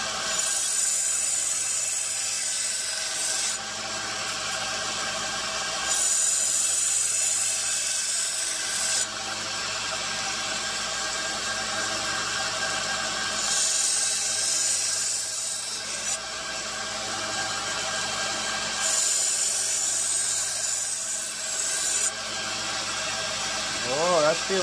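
A Damascus steel tanto knife edge being sharpened to remove burrs, heard as long, rough grinding strokes in a steady back-and-forth rhythm, with several clear pauses between passes, close and loud.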